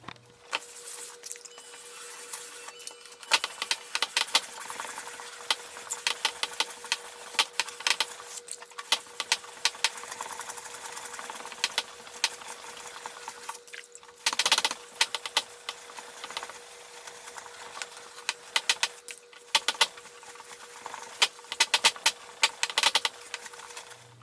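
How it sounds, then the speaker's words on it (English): Wet sanding a car headlight lens by hand with 1000 grit wet/dry sandpaper, a steady scratchy rasp of repeated back-and-forth strokes with brief pauses, close and fairly loud, with no voices. "So I'm going to hit these with 1000 grit first."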